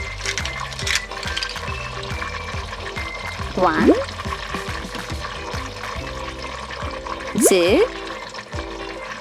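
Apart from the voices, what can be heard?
toy sharks splashed into water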